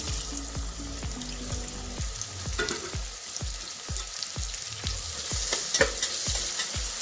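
Finely chopped onion fries in oil with cumin and asafoetida for pav bhaji, a steady sizzle under a quick, regular series of spoon taps and scrapes against the pan, rising slightly toward the end.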